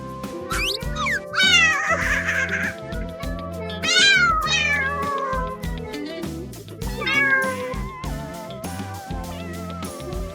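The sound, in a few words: cartoon kitten meowing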